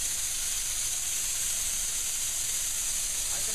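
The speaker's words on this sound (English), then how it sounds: "Now we're producing steam." An Amerivap vapor steam cleaning machine blows a continuous, loud, dry hiss of steam, steady and close, with no pauses or voices.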